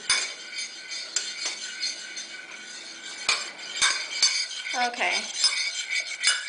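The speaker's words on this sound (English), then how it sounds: "a quarter cup of the balsamic vinegar. Okay. Alright, and we're going to mix that together." Balsamic vinegar and olive oil being mixed into a dressing, with a utensil clinking and scraping against a bowl in quick, irregular strokes close by; a voice says a brief word partway through.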